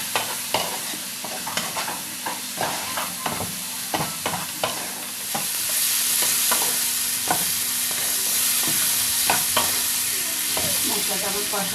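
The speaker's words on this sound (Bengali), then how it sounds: "দিয়ে এবার মশলাটাকে ভালো করে কষিয়ে নেব" Spice masala for a spicy hilsa fish curry fries and sizzles in a pan while being stirred, with repeated scraping strokes of the spoon over a steady hiss that grows louder and denser in the second half.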